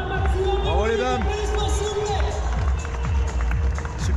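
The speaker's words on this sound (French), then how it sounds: "on applaudit nos dames, s'il vous plaît" A race-start crowd at the Nice 100 Miles ultra-trail applauds the women runners, with steady clapping and cheering under a loud announcer's voice throughout.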